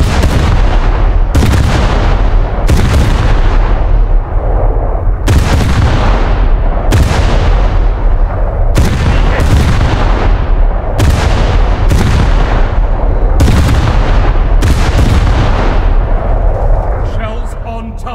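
Heavy naval gunfire from the USS Nevada, a 1944 Nevada-class battleship, in War Thunder: about ten loud, booming salvos come at a steady rhythm over a continuous rumble, and voices are heard between them.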